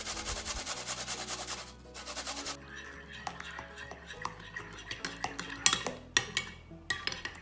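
A spoon stirs mayonnaise mixed with pressed garlic in a bowl, producing close scraping and soft clinking taps against the dish, growing more rhythmic toward the end.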